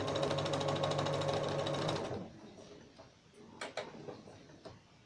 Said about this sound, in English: I am stitching over the top of my stitches.